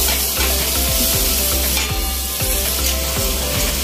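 Loud, steady sizzling of ginger garlic paste and onions frying for butter chicken as yogurt goes into the pan, with a spoon scraping at a regular rhythm throughout.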